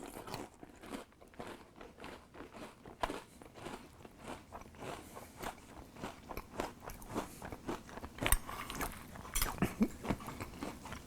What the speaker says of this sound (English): this is gonna stay crunchy in milk for a very long time